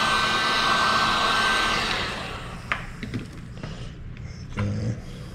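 A heat gun blowing while vinyl is wrapped onto a Dodge Charger center console, a loud steady whooshing hum for about two seconds that cuts off, followed by light handling knocks and rustles.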